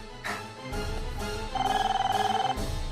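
A telephone rings in repeated electronic bursts, the later ones buzzing with a rapid warble, fairly loud and close with no talking.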